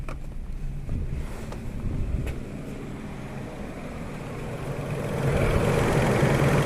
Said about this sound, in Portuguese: Esse barulho é da ventoinha.